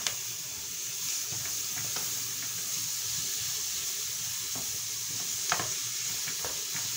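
Carrots and peas tipped into a hot pot of oil for a rice dish, giving a steady, close hiss of sizzling that holds evenly throughout, with a few faint clicks over it.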